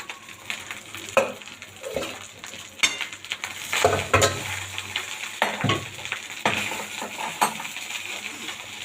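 Jeera rice frying in a pan while a spoon stirs and scrapes through it, a soft sizzle under repeated metallic clinks and scrapes against the pan in an irregular rhythm, close and fairly loud, with no talking.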